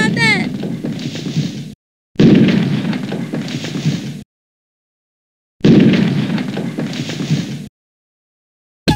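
Bomb blasts in the Bomberman video game, three separate booming bursts, each a rumbling roar about two seconds long, separated by dead silence, loud and close.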